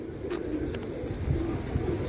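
Pigeons coo softly in low, repeated murmurs at close range, with a few faint chirps mixed in.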